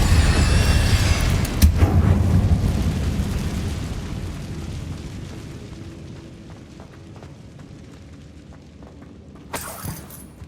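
An Incendio fire spell cast in Hogwarts Legacy bursts with a loud, roaring blast that rumbles and slowly fades over several seconds, ending with a sharp crackle.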